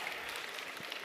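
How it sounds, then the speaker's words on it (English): A lecture audience applauds, a brief, faint, even wash of clapping from a seated crowd. "we'll do an applause here for Joyce"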